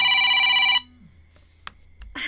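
A telephone rings with a loud electronic bell tone that stops abruptly under a second in, followed by near silence, a couple of faint clicks and the start of a voice.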